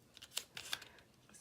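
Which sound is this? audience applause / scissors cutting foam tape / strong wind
scissors cutting foam tape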